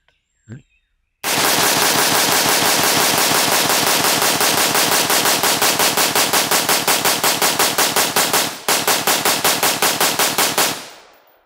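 A gun fires a full magazine in a rapid, evenly spaced string of loud, close shots, with one short pause near the end before the last few rounds. The firing stops when the action locks open.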